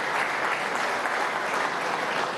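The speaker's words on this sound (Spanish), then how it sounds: "un aplauso por el amor" A crowd claps steadily at a televised political program in Zulia, a dense, even burst of applause that holds at constant loudness throughout.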